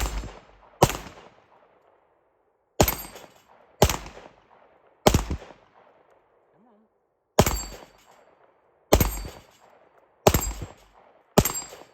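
Nine sharp, loud shots from a Tisas Duty full-size 9mm 1911 pistol, fired one at a time at uneven intervals outdoors, each crack followed by a short fading echo.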